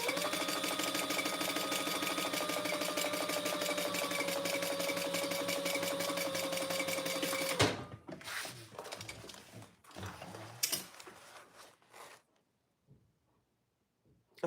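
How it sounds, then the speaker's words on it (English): Sewing machine running steadily while stitching lengthwise lines on fabric for a travel case, with a longer stitch length set; close and continuous for several seconds, then stopping into quieter handling noises. "I like to sew the middle one longwise first. I'm gonna increase my stitch length here."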